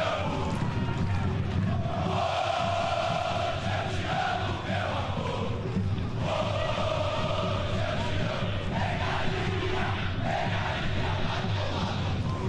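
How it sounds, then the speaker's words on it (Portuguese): Ponte Preta supporters sing in chorus in a stadium during a match against Corinthians, a loud, continuous crowd chant with rhythmic swells that fills the whole stretch. "Eu fiz esse silêncio para a gente ouvir a música que a torcida da Ponte está cantando"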